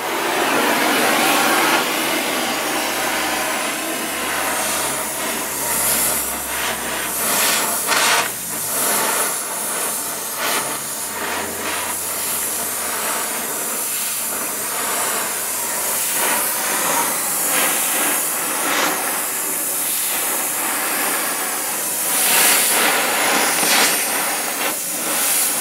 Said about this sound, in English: looks like we're going to have to put a little heat to it